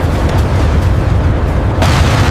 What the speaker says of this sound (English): Jester re-engages, providing cover with a burst from his 20mm cannon.